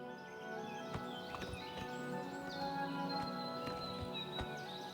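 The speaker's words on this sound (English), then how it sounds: "And this is Maybril's horse," Horse in Oblivion Remastered, standing near a rider: soft hoof clops and shuffles at irregular intervals, moderately close, over faint outdoor ambience with birds chirping.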